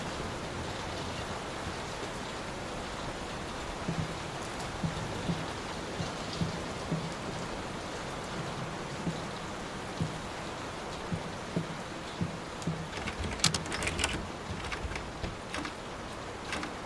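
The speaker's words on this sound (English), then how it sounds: "Will this storm ever run out of rain?" Steady storm rain pours down in the horror game Layers of Fear, a dense continuous hiss with sharper drip and patter accents growing toward the end, no voices.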